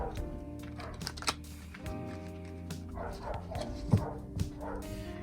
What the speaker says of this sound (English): The dog is barking as always.